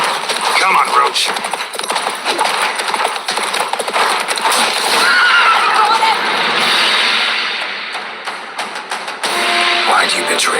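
Geralt's horse Roach in The Witcher 3, hooves clip-clopping along with a neigh and other game sounds, mostly under loud talking throughout.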